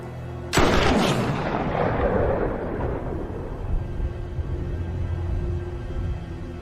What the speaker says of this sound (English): Shot! That was 400 yards at least.